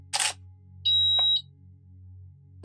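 A camera set up for macro shots of crested geckos fires its shutter with a sharp mechanical snap, followed by a brief high electronic beep and a second snap at the end, over a low steady hum.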